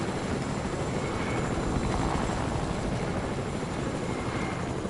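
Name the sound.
helicopter in the video game Fortnite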